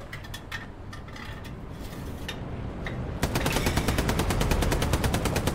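Gunfire in the World War II shooter Hell Let Loose: scattered single shots give way after about three seconds to a dense, rapid burst of automatic fire, loud and continuous.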